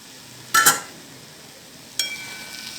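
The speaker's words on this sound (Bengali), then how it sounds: "এবার 3 মিনিট পর এর ঢাকনাটা খুলে দেখে নেব।" Metal lid lifted off a pan of simmering onion and poppy-seed curry (peyaj posto) on a gas stove, a sharp clattering clink followed by a quieter second clank, close and with no talking.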